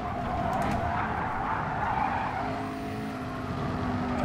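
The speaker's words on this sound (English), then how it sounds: "bit of a four-wheel slide through there" Tires skid and squeal as a race car slides through a corner in Gran Turismo Sport, a continuous rough roar with engine tone throughout, loud and close.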